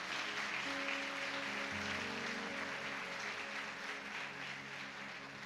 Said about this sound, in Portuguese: Você pode aplaudir ao Senhor por esta palavra?